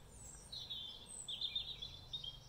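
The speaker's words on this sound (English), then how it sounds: "as I hear the beautiful bird song" Faint, high chirping birdsong trills intermittently over a quiet background, sounding distant and soft, heard from a rectory.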